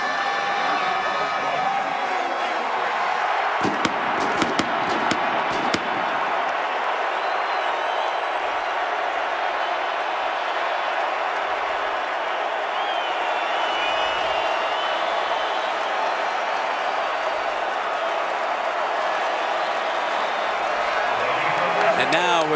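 Capacity stadium crowd roaring steadily as the Oregon Ducks, in space-age helmets, prepare to take the field at the Rose Bowl against Wisconsin; sustained loud cheering with a burst of claps and whoops, under commentary.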